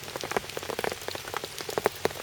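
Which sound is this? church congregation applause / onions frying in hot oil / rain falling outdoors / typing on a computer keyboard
rain falling outdoors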